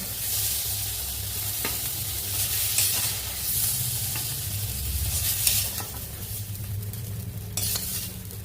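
Pointed gourd (potol) pieces frying in a small amount of oil, a continuous close sizzle with occasional light scrapes and clinks of a utensil against the pan, no voices.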